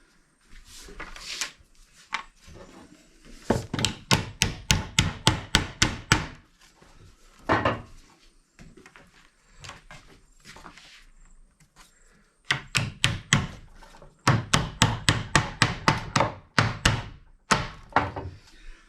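Repeated hammer blows driving wooden fence stakes through a jig, in quick bursts of several strikes each, with pauses between runs, close and loud.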